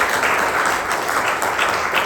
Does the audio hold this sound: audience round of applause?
yes